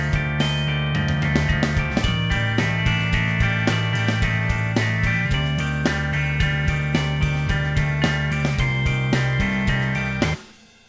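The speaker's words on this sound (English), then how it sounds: "that's a pretty normal fill" Full band groove with steady drums and bass carrying along, broken by a drum fill that anticipates an upcoming change in the song, loud and continuous before cutting off near the end.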